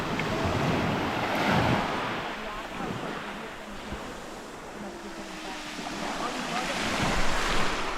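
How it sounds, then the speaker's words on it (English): Surf washes continuously onto a clear-water beach near Aspromonte, a broad, steady roar that swells and eases, with gusts of wind buffeting the microphone throughout. "Well, we made it to the beach."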